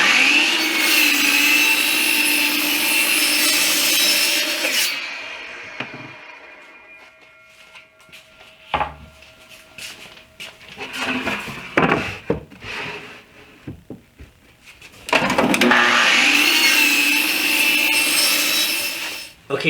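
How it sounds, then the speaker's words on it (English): A miter saw cuts lengths of wood for a butcher block island build, two loud whining cuts at the start and end, with quiet handling, clatter and knocks of the pieces between them. "And I'll do that on the miter station."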